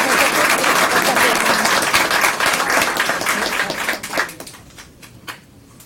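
A roomful of people at a school district board meeting claps for students in sustained, dense applause that holds steady for about four seconds, then thins out into scattered, fading claps.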